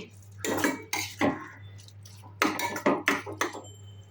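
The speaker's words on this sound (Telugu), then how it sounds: "అంతా ఒకసారి బాగా కలుపుకొని," A spoon stirs paneer bhurji mixture in a metal pan, giving repeated close scraping clatters in two bursts separated by a short pause, over a steady low background hum with no speech.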